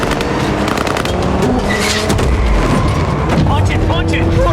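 Heavy gunfire rattles through a film battle scene, dense overlapping shots and booming blasts over a constant loud roar, with shouting voices mixed in.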